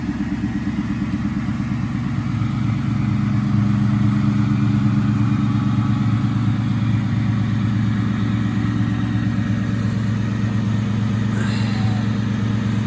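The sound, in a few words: Ford Mustang Bullitt car engine running, pulling out of garage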